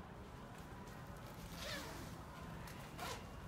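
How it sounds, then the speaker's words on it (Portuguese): A zipper on a waterproof Race Tech parka motorcycle jacket gets pulled in two quick close zips, heard over a steady background hiss. "O zíper dela é um dos melhores zíper que tem."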